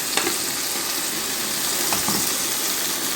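Marinated shawarma meat and onion fry in a hot pan, a loud, steady close sizzle with a couple of soft stirring knocks, nobody speaking.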